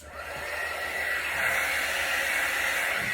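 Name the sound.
heat embossing tool blowing on acrylic paint cells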